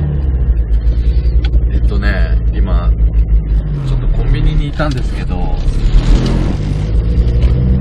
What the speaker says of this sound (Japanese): なんかね大音量のねよくわかんない車が入ってきちゃったから